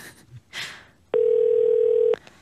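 Telephone line tone while placing a call from a Korean radio studio, a single steady electronic beep holding for about a second after brief voices and rustling.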